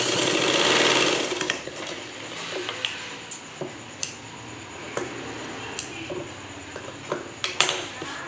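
A sewing machine stitches cloth for a steamer plate used to make idlis, loud and continuous for the first second or so, then quieter with scattered sharp ticks and clicks of the mechanism.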